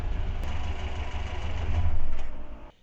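A car engine idles with a steady low rumble, swelling slightly before it cuts off abruptly, leaving silence.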